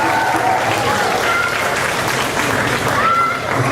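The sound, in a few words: audience applause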